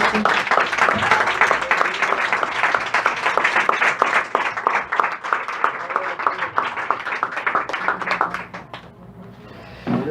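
A church congregation claps together, rapid overlapping hand claps building steadily and close, then thinning out and fading near the end.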